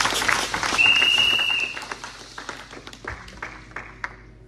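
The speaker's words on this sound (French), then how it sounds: "Tu peux acclamer le Seigneur." Church congregation at an evangelical Sunday service applauding to acclaim the Lord, a dense burst of clapping that swells early then thins into scattered claps, with a brief tonal whistle-like sound partway through.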